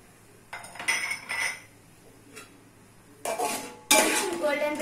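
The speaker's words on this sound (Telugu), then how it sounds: "నూనె వేసుకొని ఈ పొటాటో ముక్కలను వేసి" Potato pieces go into hot oil in a pan: light clinks of utensils first, then two loud bursts of sizzling that swell and keep hissing, heard up close.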